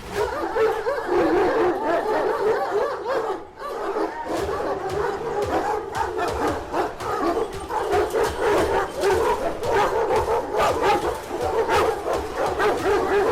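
Kangal dogs at a large kennel bark repeatedly in overlapping bursts, several animals near and far, with a few yips and whimpers and faint talk beneath.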